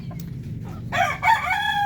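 Darag native chicken rooster in Zaragoza, Nueva Ecija, giving a single close, loud crow that rises sharply after a brief quiet moment.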